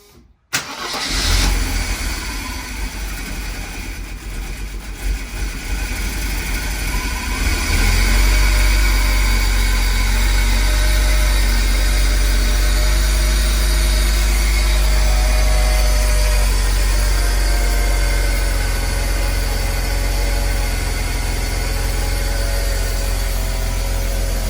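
A Mercedes W124 300E starts up and settles into a steady, loud idle, with freshly installed fuel injectors adding a fine rapid ticking. The sound is close and continuous for over twenty seconds, and nobody speaks.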